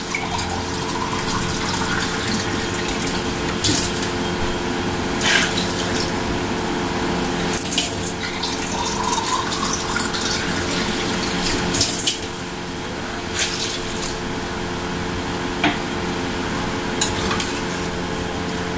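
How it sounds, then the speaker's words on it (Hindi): Water poured into a pot of spiced chicken for haleem, a steady broad pouring and bubbling wash that runs continuously and fairly loud, with faint clinks and sizzle-like texture and no talking. "आपने इसमें पानी इतना ऐड करना है कि इसमें चिकन अच्छी तरह गल जाए।"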